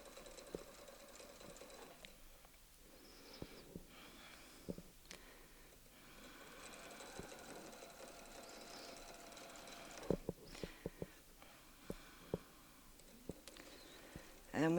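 A domestic sewing machine stitches steadily around a circle on a quilt, its quiet continuous whir close by and broken by a few soft clicks and handling taps, with a voice speaking over it.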